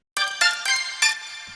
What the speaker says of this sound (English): some of the layers from the steel drum sound